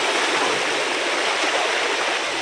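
Floodwater rushing strongly through a flooded neighborhood, a loud continuous broadband roar of fast-moving water heard close and steady with no voices.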